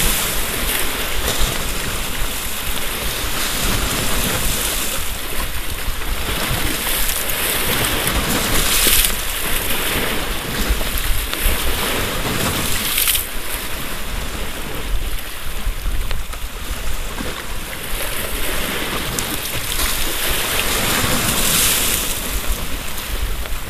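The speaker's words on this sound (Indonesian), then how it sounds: "Aduh, ombaknya tambah besar aja sahabat." Sea waves surge and wash continuously around a small fishing boat on rough water, with steady wind buffeting the microphone throughout and no voices.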